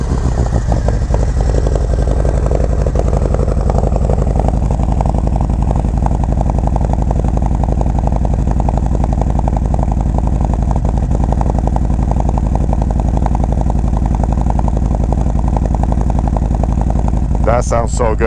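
A Harley-Davidson Road Glide motorcycle with aftermarket pipes idling after a cold start, a loud, close, steady low rumble with a lumpy pulsing beat that continues throughout.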